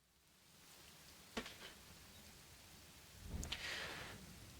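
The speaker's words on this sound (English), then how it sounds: "Immediately I felt my clothes starting to cling to my skin as a heavy downpour of rain began to soak me." Heavy downpour of rain as an audio drama effect, a faint steady hiss of falling water with a couple of brief sharper splashes or crackles standing out.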